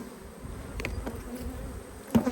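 Honey bees buzzing in an opened hive box while festooning and drawing out comb, a soft steady drone with individual bees passing near, one louder buzz close at the end.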